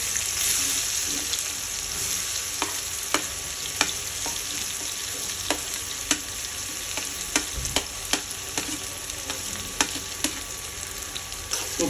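Chopped onion with radhuni spice fries in a pan for a rohu fish curry, giving a continuous hiss of oil with frequent light clicks and taps from stirring, close up and free of speech.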